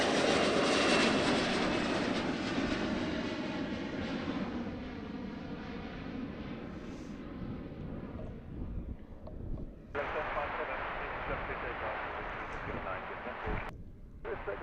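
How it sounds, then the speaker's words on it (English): A Boeing 777 jet thunders past at Amsterdam Airport, a loud broad engine roar that slowly fades as it moves away, followed by a steadier rushing hiss and brief handling noises near the end. "Next, the Boeing 777 going for Panama City."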